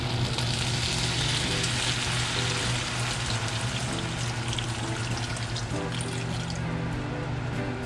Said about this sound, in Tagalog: Ngayon, lagyan natin ng konting tubig.